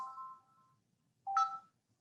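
A mobile phone goes off during a lecture, giving two short electronic ringtone tones separated by a brief silence, clean and moderately loud with no talk over them.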